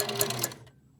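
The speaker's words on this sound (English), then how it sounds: "So the hook is just barely scraping against the needle." Singer 4411 sewing machine running with its needle barely scraping against the hook, a close, fast mechanical whir with a bright rhythmic ticking that stops partway through, leaving faint hum.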